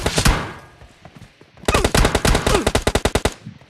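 Rapid automatic gunfire from the mobile shooter game PUBG Mobile Lite, a short burst followed by a longer rattling string of loud, evenly spaced shots, close and unaccompanied by talk.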